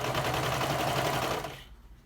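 A serger sewing machine runs continuously as it encases elastic in folded fabric, a loud, rapid mechanical whir that winds down and stops abruptly near the end.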